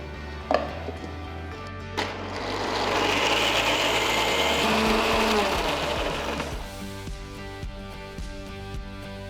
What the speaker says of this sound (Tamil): தோல் எடுத்த பாதாமை ஒரு மிக்சர் ஜாருக்கு மாற்றி கொஞ்சம் பால் ஊற்றி ஸ்மூத்தான பேஸ்ட்டாக அரைச்சி எடுத்துக்கலாம்